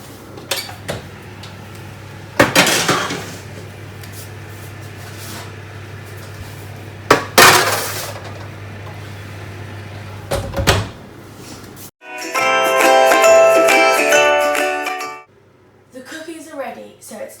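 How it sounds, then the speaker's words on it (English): Cookie tray going into a hot oven at 200 °C: two loud clattering clunks of door and metal tray over a steady low hum, then a few softer knocks and a longer stretch of tonal sound. "Now it's time to put the cookies in the oven, 200 degrees Celsius for 10 minutes."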